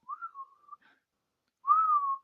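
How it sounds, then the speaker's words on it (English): A person whistles alone, quietly: a short wavering tone that falls away, a brief blip, a pause, then a stronger sustained note that slowly slides downward. "Heaven forbid I can whistle."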